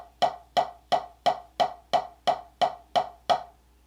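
A drumstick in the right hand strikes a drum at fortissimo from about fifteen inches high, ten loud, evenly spaced strokes with crisp attacks and short decays, alone and close.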